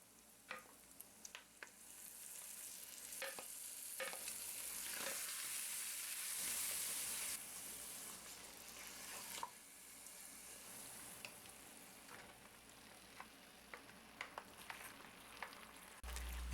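Pasta and meat for American chop suey are stirred together in a hot Dutch oven. A soft sizzle rises and fades, broken by sharp scrapes and clanks of the spoon against the pot, and no one speaks.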